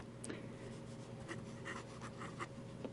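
A pen scratches across paper while writing upside down, a soft, continuous scritching with small strokes and taps over a faint steady hum.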